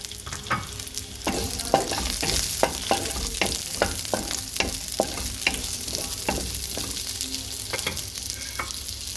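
Beef pieces sizzling steadily in a hot pan for beef caldereta, with regular scraping stirs from a utensil cutting through the constant frying hiss, close and loud, no talking.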